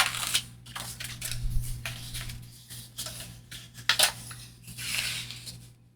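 Scissors cutting paper for a craft journal, with close, quiet snips and crisp paper rustling in an irregular rhythm.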